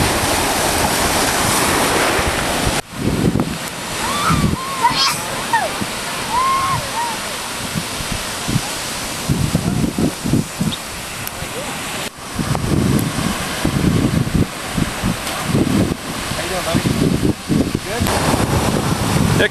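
Ocean surf breaks and rushes at Panama City Beach, Florida, with a loud, continuous wash, repeated surges and heavy wind buffeting on the microphone, while voices talk and call out intermittently over it.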